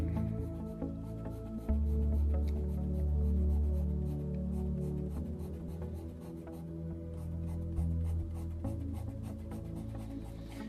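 A sharpened pencil scratches across paper while finishing a scarlet macaw drawing, steady close strokes over a continuous low musical hum.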